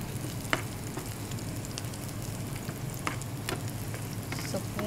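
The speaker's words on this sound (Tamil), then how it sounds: "இப்போ வந்து ரெட் chili போடுறோம். நம்ம ட்ரை ரெட் chili." Dried red chillies and garlic sizzle and crackle steadily in hot oil in a pan, with occasional stirring clicks and pops, alone without talk.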